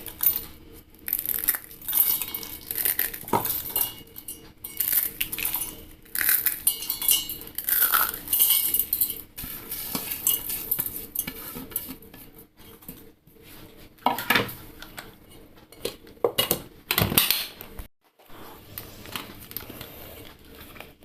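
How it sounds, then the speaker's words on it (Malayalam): Dry noodles crushed by hand into small pieces give repeated bursts of brittle crackling and crunching, with light clinks from a dish, in uneven close-up bouts separated by short pauses and no talking. "നമ്മളൊരു നൂഡിൽസ് മാറ്റി വെച്ചിട്ടുണ്ടല്ലോ, അതൊന്ന് പൊടിച്ച് വെക്കാം"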